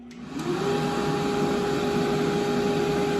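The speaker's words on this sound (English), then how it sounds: "here goes the dryer" A pet dryer used during a young female puppy's bath starts up with a rising whine, then runs as a steady loud blowing drone with a clear tonal hum.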